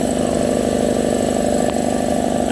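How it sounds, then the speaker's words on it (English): A motor-driven replacement air compressor pump runs steadily at close range, a loud continuous mechanical drone with an even pulsing hum and no pauses. "this pump should be running around 1200 RPM, so I can speed this up quite a bit"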